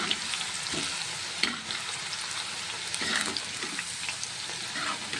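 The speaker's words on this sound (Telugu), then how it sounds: "కాకరకాయలు డీప్ ఫ్రై చేసుకోవాలి." Bitter gourd pieces deep frying in hot oil in a kadai, giving a steady dense bubbling sizzle with light stirring movements, close and even throughout.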